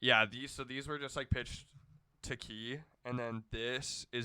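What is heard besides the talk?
No everyday noise stands out behind the speech.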